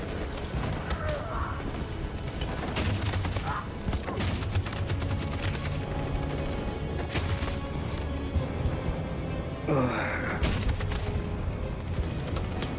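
Machine gun fire rattles through a battle in Detroit: Become Human, loud sustained bursts with heavy impacts and crashes layered through a chaotic, continuous firefight, with some voices mixed in.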